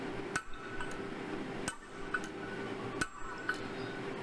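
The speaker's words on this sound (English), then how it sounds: "somehow flattening it with some force drawn from the sledgehammer, targeted by the flatter, placed over the anvil, held with tongue" A 15 kg sledgehammer strikes a flatter held with tongs over an anvil in a blacksmith workshop: three heavy ringing blows spaced over a second apart, with lighter clinks between, faint and alone.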